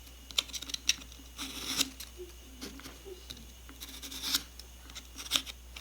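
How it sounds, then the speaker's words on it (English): Ukulele fret edges are sanded with 400 grit sandpaper wrapped around a bevel gauge, producing short, quiet scratchy strokes in uneven bursts, close up against a faint low hum, with no talking. "you need to kind of bevel the edges with some 400 grit"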